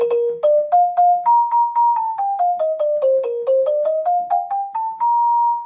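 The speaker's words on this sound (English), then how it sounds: "I'll go to the last sound, 99, which is marimba" Marimba voice on a Burswood LS-939 electronic keyboard playing a run of about twenty short mallet-like notes rising, falling and rising again, ending on one held tone, loud and close with no talk.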